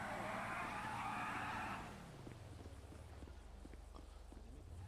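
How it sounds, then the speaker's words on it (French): A car in the FiveM GTA V game roars and skids loudly for about two seconds, then drops to a lower engine rumble as the vehicle moves off, with no talking. "Ils bougent leur véhicule."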